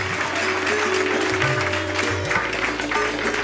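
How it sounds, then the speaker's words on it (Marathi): A hall audience at a gratitude ceremony claps together in a steady, sustained round of applause that fills the room at even loudness from start to finish. "या जोरदार टाळ्या झाल्या पाहिजे"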